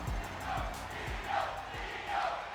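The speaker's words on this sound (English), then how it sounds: "You hear this crowd here tonight firmly behind Iyo Sky." A WWE 2K24 arena crowd during a Raw title match, a dense roar of cheering and chanting that swells and pulses in waves, loud and continuous with no talk over it.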